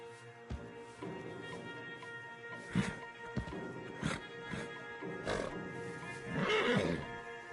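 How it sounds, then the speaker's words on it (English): Stallions in Red Dead Redemption 2 let out several sharp neighs and snorts over a low rumble, with occasional hoof thuds and a louder whinny toward the end. "Javier, You're gonna lead the stallions."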